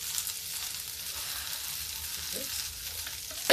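Okra cut into quarter pieces frying in a pan with a pinch of turmeric gives a steady, close sizzle and crackle, with a few soft stirring scrapes near the end and no voices.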